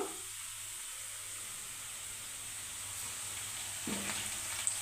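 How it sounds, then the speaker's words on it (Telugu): Onions and green chillies fry in a pan for chicken curry, giving a soft, continuous sizzle with a brief stirring scrape near the end. "ఆనియన్స్ అయితే గోల్డెన్ కలర్ వస్తున్నాయి ఇప్పుడు మనము అందరూ కట్ చేసి పెట్టుకున్న పచ్చిమిర్చి కూడా వేసేసుకున్నాము"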